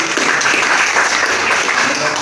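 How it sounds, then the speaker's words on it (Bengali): An audience at a business presentation claps in a dense, steady burst of applause lasting the whole moment. "আমি একটা করতালি চাচ্ছি"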